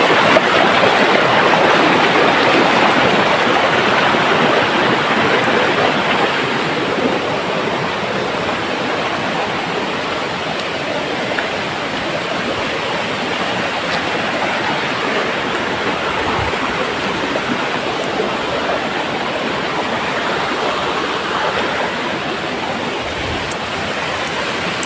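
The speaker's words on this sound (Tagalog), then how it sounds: "Flowing water. Yan. Dito lang yan sa Hubo Falls." Waterfall at Hubo Falls pours and rushes steadily, a loud, close, continuous roar of flowing water that holds for the whole stretch, fading slightly after the first few seconds.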